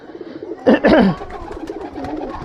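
Racing pigeons in a tournament loft, three males and one female, give a loud close burst of cooing lasting about half a second, followed by quieter ambient bird sounds.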